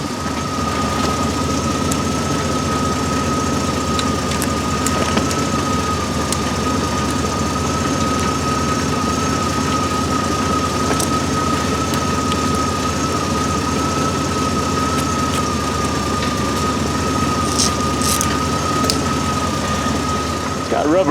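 A portable tire compressor motor runs in a steady, loud, unbroken drone with a constant tonal whine while filling a tire. It continues throughout without pause.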